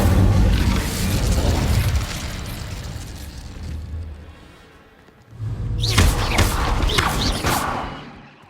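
A fire spell from the video game Hogwarts Legacy bursts out with a loud booming whoosh, settles into a rumbling crackle, dips briefly, then flares again with a second heavy fiery burst.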